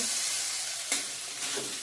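Chickpeas fry and sizzle steadily in oil with spices, a broad continuous hiss, while a spoon stirs through them in a couple of brief scraping strokes.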